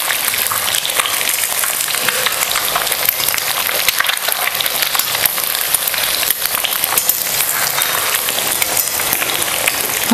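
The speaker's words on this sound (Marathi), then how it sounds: "चांगलंसं आपल्याला असं तेलामध्ये सोडून आहे ना आपण हे परतून घेऊया" Egg and tomato mixture sautéing in hot oil, a loud, dense, steady sizzle with crackling spatters filling the whole stretch, close up and with no talk.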